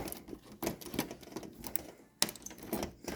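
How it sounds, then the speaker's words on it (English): Snips cutting parts off the circuit board of a 2008 Sony Bravia 40-inch LCD TV being scrapped: a few short, sharp clicks and snaps, one louder crack near the end, close and with no talk. "Let me see if I can use the snips to make this one a little easier too."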